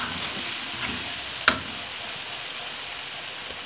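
Spices and tomatoes stirred in a pan for aloo keema, a soft steady sizzle with faint scraping and a single sharp clink of the spoon near the middle, close and fairly quiet.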